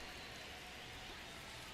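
Rain falls steadily in a baseball video game, a soft even hiss of rainfall alone in the clip, with no voices or other sounds.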